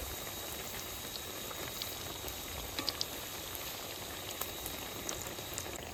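Bread chops deep-frying in oil on a rainy evening, a soft, dense bubbling hiss with scattered tiny pops, steady and fairly faint.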